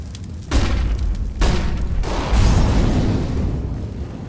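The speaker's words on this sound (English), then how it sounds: "but JP just picks him up with that AWP shot" Loud booming gunfire in a Counter-Strike match, including an AWP sniper rifle shot, with several heavy bursts at the start and middle over a dense continuous game rumble.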